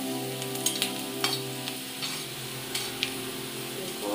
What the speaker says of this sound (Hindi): प्याज हमारी पक चुकी है, लाल हो जाएगी, तो हम इसमें हरी मिर्च डाल देते हैं।